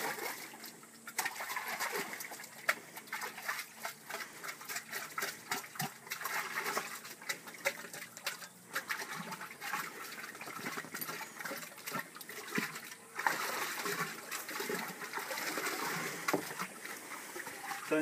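Three litres of molasses being stirred into a liquid inoculant mix in a container, giving faint, irregular sloshing and swishing strokes that continue steadily with no talking.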